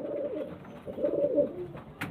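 A female pigeon offered for sale coos close by in low, rolling, throaty phrases, two swells across a couple of seconds, followed by a brief sharper noise at the end.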